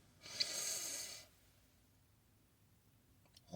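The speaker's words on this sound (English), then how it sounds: "So I'm breathing in deep through my nose," One long, deep inhale through the nose inside a quiet parked car, a soft airy rush lasting about a second, then near silence.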